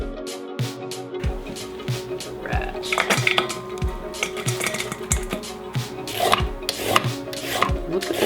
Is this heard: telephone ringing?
no